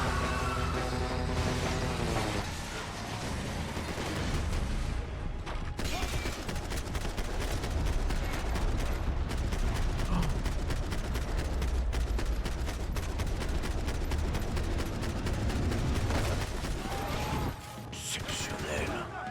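Heavy gunfire from the video game Max Payne 3, long rapid bursts and scattered shots with crashing impacts running almost nonstop, while someone talks over the action throughout.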